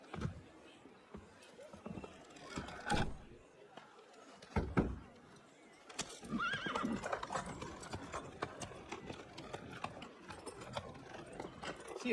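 Horses in a stable scene from the Assassin's Creed Unity video game, with hooves clip-clopping, a horse neighing, and a door or wooden thump, amid other scattered noises while voices speak.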